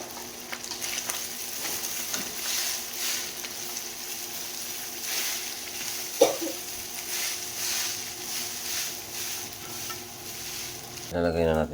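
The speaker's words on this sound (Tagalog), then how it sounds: "Haluin." Cooked rice fried in a pan for a family breakfast, sizzling steadily throughout while a spatula stirs and scrapes in a repeated rhythm, with one sharper knock partway through.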